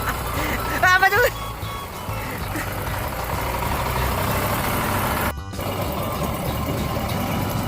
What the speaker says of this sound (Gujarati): પ્રદીપભાઈ સ્લોલી ટ્રેક્ટર ચલાવી જાય છે